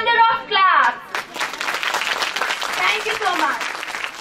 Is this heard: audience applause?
yes